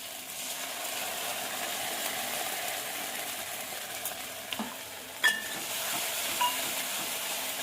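Spice paste with ground chilli frying in a pan for jackfruit kalia, giving a steady low sizzle with a few faint scrapes and taps of the stirring spoon, alone and without talk.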